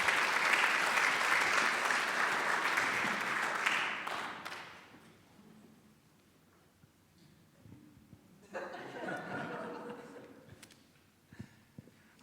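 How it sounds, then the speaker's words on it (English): Audience at a pre-concert conversation applauding loudly for several seconds, the clapping fading out, followed by quieter room sound and a speaker beginning to talk. "let's give them all a round of applause"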